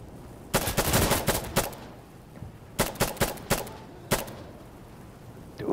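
Gunfire in a video game: a long burst of rapid automatic shots, then a series of separate sharp cracks and one last shot, loud and close, with quiet gaps between bursts.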